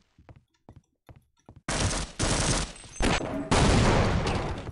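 Weapon fire in Half-Life: Opposing Force, a few quick soft clicks followed by dense, loud bursts of rapid shots that roar on continuously for several seconds, with no talking.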